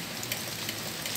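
Steady rain patters on surfaces outdoors during a mushroom harvest, a dense even hiss of drops heard alone without voices.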